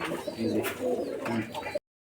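Pigeons coo in low, soft rolling calls close by, a steady murmur of several birds with a brief higher flutter near the end.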